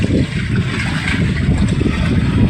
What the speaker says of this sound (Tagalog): Lumakas na naman po yung hangin.